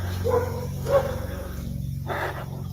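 A dog barks in a few separate bursts at moderate distance over a low steady background hum, with no talking.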